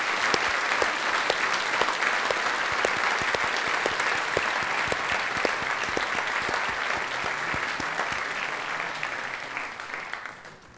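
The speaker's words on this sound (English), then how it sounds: "A round of applause, please, ladies and gentlemen," Sustained applause from a crowd at a business school opening ceremony, dense clapping that holds steady for about ten seconds before starting to fade at the end.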